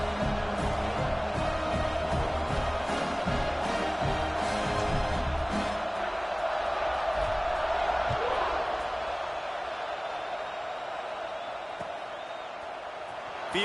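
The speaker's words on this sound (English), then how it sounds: "this crowd is buzzing after that last score" A stadium crowd in College Football 26 keeps up a dense, continuous roar and murmur that slowly fades toward the end, with a commentator speaking over it.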